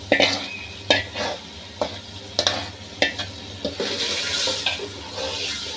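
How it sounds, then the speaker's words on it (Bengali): Taro being stir-fried with spices in oil left from frying hilsa fish, with a steady sizzle and repeated sharp scrapes of a spatula against the pan, about one stir per second, close and alone. "এগুলো 2-3 মিনিট আমি ভালো করে কষিয়ে নেব মশলার সাথে আর কসুরমুখী একসাথে।"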